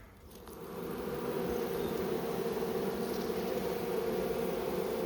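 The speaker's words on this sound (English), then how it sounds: "judging from the amount of bees in here" Bees swarm in a wooden structure, their buzzing swelling into a dense, steady drone that fills the space, close and continuous with no pause.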